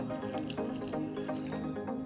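Cold water being poured into a bowl of fish roll batter with egg already mixed in, a steady close trickle and dribble of liquid.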